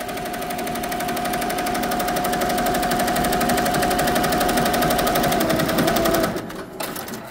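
An embroidery machine stitches at high speed, making a rapid, even mechanical chatter that runs loud and close for about six seconds before stopping abruptly, leaving a few fainter clicks.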